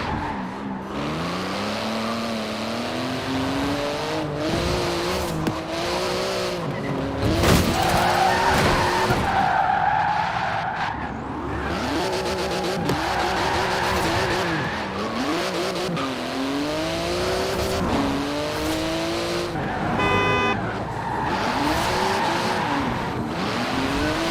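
A Porsche GT2 RS with titanium exhaust and magnesium wheels races in Forza Horizon 4, its engine note rising and falling through gear changes while tyres skid and squeal repeatedly, loud and continuous throughout, with no talking.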